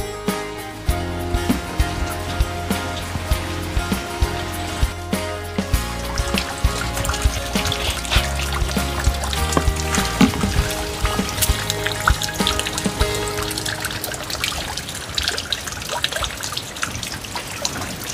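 Water being poured and trickling in a rustic outdoor setting, a steady splashing dribble with intermittent drips running for the whole stretch, close and moderately loud, with no talking.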